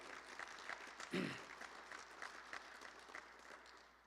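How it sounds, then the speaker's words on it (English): Quiet, distant audience applause in a hall at a town address, honouring a state-championship co-op hockey team and its coach, steady light clapping with a short voice or cheer breaking through early on. "Please give them and Coach Lou Payne another big round of applause"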